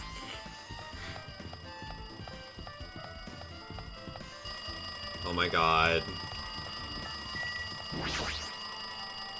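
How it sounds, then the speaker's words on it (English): A phone rings repeatedly in the video game Danganronpa 2, a steady electronic trill under game music, with a person briefly exclaiming over it. "It looks like that phone is ringing."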